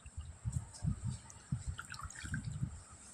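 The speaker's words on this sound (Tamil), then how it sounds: "வாஷ் பண்ணி தண்ணியில் போட்டு வாஷ் பண்ணணும்" Mint leaves being washed in water for chutney, with soft sloshing, low thumps of handling and light drips and trickles, fairly faint and close.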